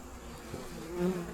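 Honey bees buzz softly nearby in a yard, a low droning hum that rises briefly as one passes closer.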